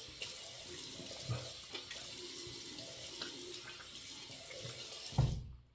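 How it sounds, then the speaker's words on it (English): Tap water pours steadily into a bathroom sink as a face is rinsed after shaving, with soft splashes through the flow before the water cuts off abruptly near the end. "Okay, we'll rinse that. We'll rinse the face."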